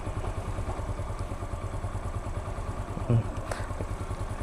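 A manual motorcycle engine idles and loads up as the clutch reaches its biting point, a steady close mid-pitched rumble with a brief thump near the end; a voice talks over it.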